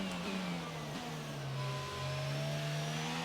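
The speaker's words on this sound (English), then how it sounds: "Yep, that is a Ferrari coming out right now" A Ferrari F1 car engine in the F1 22 racing game holds a steady, loud high-pitched drone that shifts pitch slightly as the car runs and never drops away.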